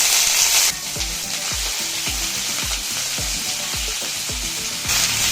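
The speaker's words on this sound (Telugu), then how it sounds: "ఇప్పుడు అదే బండిలో ఇందాక కడిగి పెట్టుకున్న పుదీనాకును వేయించుదాం" Mint leaves fry in a pan, a steady close sizzle punctuated by a regular run of dull taps from stirring.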